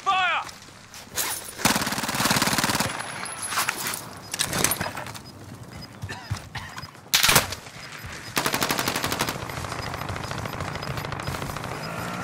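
Gunfire in Call of Duty: Modern Warfare, several bursts of automatic shots at varying distances, some loud and close, others fainter, mixed with game effects and brief radio-style voice callouts.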